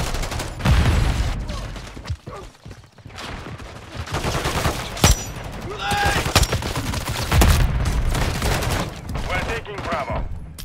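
A Pulemyot 762 light machine gun and other weapons fire in Call of Duty Modern Warfare 3 multiplayer on the Stash House map, dense sustained bursts and scattered cracks, near and loud for the whole stretch, with in-game voice callouts over the shooting.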